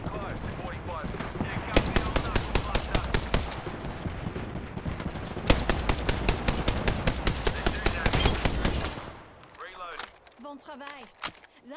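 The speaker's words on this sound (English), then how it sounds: "Knuckle cluster's firing. Let rip." Knuckle Cluster firing in the battle game Apex Legends: rapid, rhythmic volleys of sharp blasts in two long runs, loud and close, with voices talking around them.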